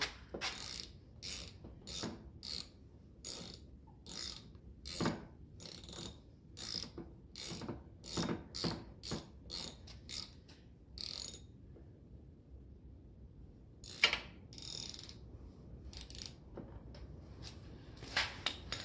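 Bolts on the gas petcock of a Yamaha TTR125 motorcycle being tightened with a ratchet, giving close, repeated bursts of clicking in a steady rhythm, stopping for a couple of seconds before resuming more sparsely.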